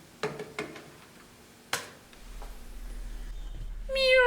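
A cat meows in a K-pop music video intro, a short rising meow at the very end after a few sharp isolated clicks and a quiet low hum.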